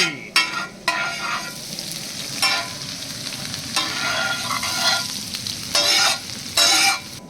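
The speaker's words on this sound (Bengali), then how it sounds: "রসুন কুচি দিয়ে দিলাম। এই যে এখন দিয়ে দেবো আদা কুচি, আদা কুচি।" Chopped garlic and ginger fry in a wok for vegetable fried rice, a loud steady sizzle broken by repeated metal scraping strokes of stirring, close up with no voice.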